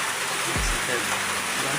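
Steady rain falls around a rural house, a constant broadband wash of drops under a faint voice, with a brief low thump partway through.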